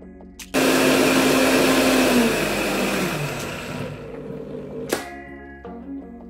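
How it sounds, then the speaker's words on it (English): A loud blender whirs steadily for several seconds blending mango and sugar into a paste, its motor pitch slowly dropping as it churns, then cuts off abruptly, leaving brief quiet. "We're going to blend these two to smooth paste."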